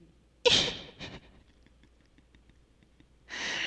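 A comedian's voice imitates a Google navigation voice sneezing during a stand-up comedy set: a sharp, loud sneeze-like burst with a short follow-up puff, a quiet pause, then a long breathy exhale near the end, with no spoken words.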